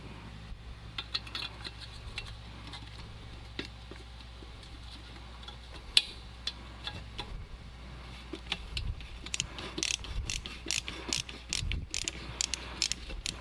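A ratchet screwdriver backs out rusty screws with close, quiet, rapid clicking of the pawl in uneven bursts, growing busier and louder toward the end.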